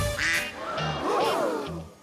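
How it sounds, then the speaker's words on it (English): Several cartoon ducks quack loudly in quick bursts, nasal honking calls overlapping one another with a couple of low thumps. "Enough with the ducks."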